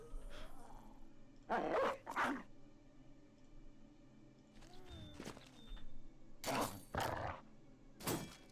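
A dog in the Battle Brothers video game, a medieval tactical battle game, barks and yelps in a few loud bursts amid clashing game effects, with bursts of activity separated by quieter stretches.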